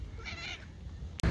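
A single short cat meow, clear and fairly close, followed by a brief bump at the end, with no talking.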